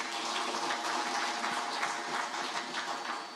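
Dense, steady applause from a seated audience at a post-budget breakfast meeting, a sustained wash of many hands clapping throughout without pause.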